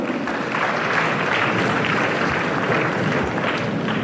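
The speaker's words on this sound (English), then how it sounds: "A round of applause to her." Audience applause for a student at a university career day, a dense, steady wash of clapping filling the room at even loudness throughout.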